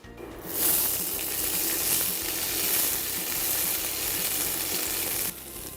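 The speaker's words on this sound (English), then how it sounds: "On a very high heat, I'm gonna saute my boiled quinoa." Boiled quinoa sautéing in olive oil in a pan over very high heat gives a loud, steady, hissing sizzle that starts after a brief pause and cuts off just before the end, with no talking.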